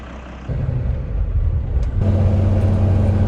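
A pickup truck's engine rumbles close by while a broken-down van is loaded up, a steady low drone that grows louder and heavier partway through, with no one talking.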